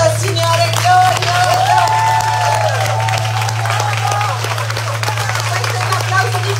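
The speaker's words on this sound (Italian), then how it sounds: "Cominciamo con un applauso al Signore" Congregation applauding the Lord at an Italian church gathering, a steady dense wash of clapping with a loud low hum beneath and faint voices mixed in.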